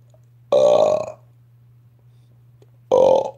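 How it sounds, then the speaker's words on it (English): Two loud, close, throaty burps separated by about two seconds of quiet, over a steady low background hum, with no talking. "The burp is so good after you"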